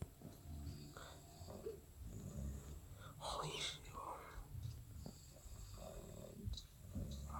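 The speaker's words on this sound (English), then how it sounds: "Don't fucking snore while I'm making a video. Stop snoring." A person snoring nearby, with rough, uneven breathing snores rising and falling over several seconds beneath faint background sounds and a muttering voice.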